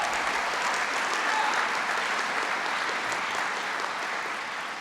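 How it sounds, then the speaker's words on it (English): Sustained applause from an audience at a community college event, steady and dense clapping that fills the space and tapers slightly toward the end. "You can applaud for that."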